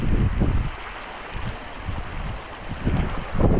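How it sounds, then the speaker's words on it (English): Strong wind buffets the microphone with loud, gusty rumbling on a rainy mountain hike in Patagonia, steady roar swelling in bursts near the start and end, no talking. "You can see it's a little windy and rainy, bundled up."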